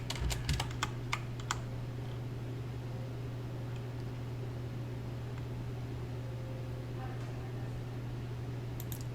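Typing on a computer keyboard in a game world, a quick run of crisp key clicks at the start, then a steady low hum and faint noise for the rest.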